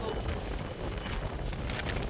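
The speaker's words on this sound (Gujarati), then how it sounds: "પવન જતો આવે." Storm wind during heavy cyclone-like rain in Kutch, Gujarat, roaring as a steady, dense rush of mic-buffeting wind noise for the whole stretch, with no clear voices.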